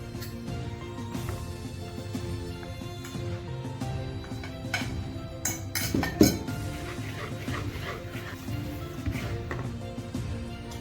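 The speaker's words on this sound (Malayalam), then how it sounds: "നമ്മൾ അപ്പം കുറച്ചിട്ടത് മിക്സ് ചെയ്തുകൊണ്ടിരിക്കുക." Banana cake batter being mixed in a bowl, with a utensil clinking and scraping against the dish in an irregular rhythm and a few sharper knocks midway, close and fairly quiet.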